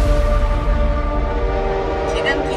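A train rolls past with a sustained horn-like tone over a low, steady rumble, moving through a joint economic zone in the Korean version of La Casa de Papel; the sound is strong and continuous, with a faint voice toward the end.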